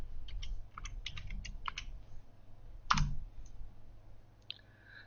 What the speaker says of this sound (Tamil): இதை வந்து நான் துபாய்னு டைப் பண்ணுறேன்